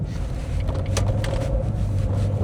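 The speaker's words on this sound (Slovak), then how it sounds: "Teraz pri tej akcelerácii počujeme, že to, čo máme pod prednou kapotou, je benzín a šesťvalcový." A Jaguar X-Type with a six-cylinder petrol engine accelerates, a low, steady engine drone rising under road noise from inside the car, moderately quiet throughout.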